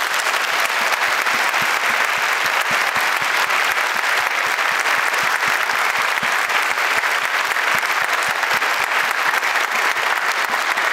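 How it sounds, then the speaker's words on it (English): A concert audience applauds a musical ensemble after a performance of a concerto, with dense, continuous clapping at a steady level and no voices. "Please give them another round of applause."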